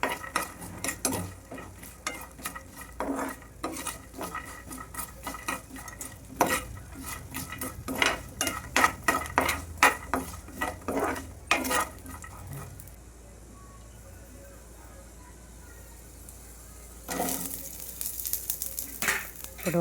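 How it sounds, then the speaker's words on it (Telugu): Peanuts and garlic frying in a pan for a ridge gourd and coriander chutney, a continuous sizzle broken by repeated scraping stirs and spoon clinks against the pan, then a quieter stretch of frying before the stirring returns. "ఇప్పుడు ఒక 3 టేబుల్ స్పూన్ పల్లీలు వేసుకోవాలి. అలాగే ఒక 5 వెల్లుల్లి వేసుకొని బాగా వేయించాలి."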